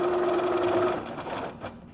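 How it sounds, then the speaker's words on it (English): A sewing machine stitches binding onto the raw edge of a quilted bag, a loud close motor whir with a steady tone that slows and fades out toward the end. "and then we're ready to sew."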